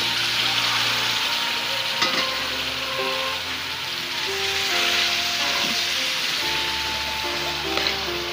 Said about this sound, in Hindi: तो इनकी अच्छी तरह भुनाई करूँगी। ये गोभी शामिल कर रही हूँ।